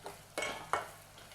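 Masala for prawn biryani cooking in a pan, heard as a low fry with two sharp scraping stirs of a utensil against the pan over a faint background.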